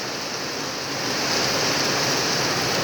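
Heavy rain pours down while water streams along the road toward a house, a dense, loud rushing hiss that stays steady and swells slightly halfway through.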